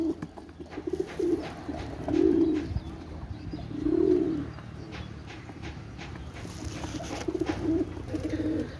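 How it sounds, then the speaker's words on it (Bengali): A pair of Saki breed pigeons coo in repeated low, throaty bursts, several distinct rounds rising and falling at close range with faint background clatter between them. "এক জোড়া সাকি গ্রুপের কবুতর, মাশাল্লাহ একদম ফুল রানিং কবুতর"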